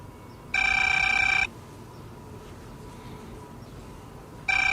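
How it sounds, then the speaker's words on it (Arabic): A telephone rings in two loud, bright electronic bursts, the first lasting about a second and the second starting near the end, over a low steady room hum with no talking. "ردي على التليفون"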